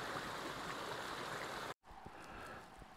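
Steady rushing and bubbling of a brook in the Peak District moorland, loud and continuous, broken by a brief dropout before the flowing water resumes more softly.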